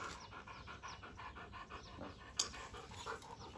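A dog pants steadily in quick, rhythmic breaths close to the listener for the whole stretch. One brief sharper sound breaks in partway through.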